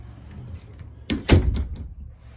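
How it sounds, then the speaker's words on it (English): Interior door between the bathroom and main bedroom of a 2022 Alpha Wolf 30DBH-L camper trailer swings open with a couple of close clicks and a brief rattle in a quiet room. "Door to the bedroom from the bathroom."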